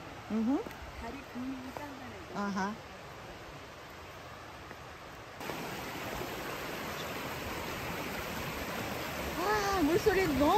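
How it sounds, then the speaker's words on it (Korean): A flowing stream rushes steadily in a constant, full wash of water, with people talking over it early on and again near the end. "물소리 너무 시원합니다"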